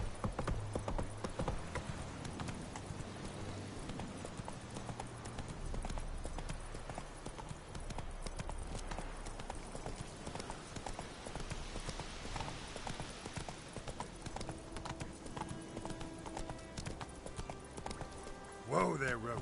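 Rhythmic clip-clop of the horse Roach galloping in The Witcher III, hoofbeats steady and fairly close under constant game music and ambience, with a voice speaking over it.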